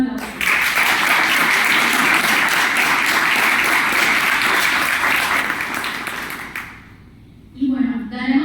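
Loud, dense applause from an audience at a Spanish-language philosophy panel, sustained for several seconds, then fading out before a voice speaks.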